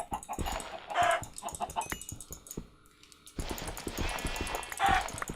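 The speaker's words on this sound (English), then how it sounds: "Die! All the chickens!" Chickens in Minecraft cluck and squawk in busy bursts. Several birds overlap in two loud clusters with a quieter gap between them, along with some clicking game sounds.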